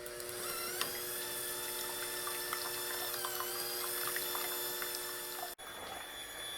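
An electric mixer whirs steadily as cream is whipped with sugar for strawberry tiramisu, a bright sustained motor whine with small rattles, running alone and close before cutting off abruptly near the end.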